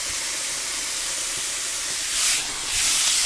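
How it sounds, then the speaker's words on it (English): Ground beef sizzling in a pan for shepherd's pie, a steady broad hiss that swells twice near the end, alone with no talk. "cook the beef through"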